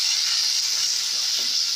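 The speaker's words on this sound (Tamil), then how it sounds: "இப்போ இந்த தக்காளி நல்லா வதங்கட்டும்." Steady, dense sizzling of chopped tomatoes frying in a hot pan for a Tamil mudakathan keerai kuzhambu curry, a continuous hiss with no voices.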